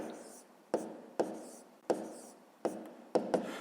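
Pen writing numbers on paper while working a fifth-grade math exercise, heard as six sharp tapping strokes at irregular intervals with soft scratching between, close and quiet, with no talk.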